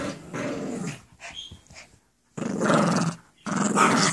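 A Chihuahua growls in low, rough bursts while playing fetch. Two long growls stand out, with quieter yips and snuffles between them, all close to the microphone.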